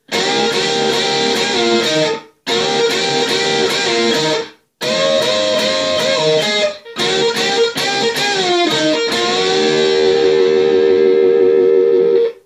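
Loud, heavily distorted electric guitar plays sustained chords and notes in bursts of a solo, with brief silent breaks, ending on a long ringing held note.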